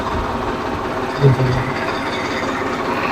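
An 855 tractor works on cow farm cleaning, its steady mechanical rumble joined by a brief louder clank midway, with faint speech at times.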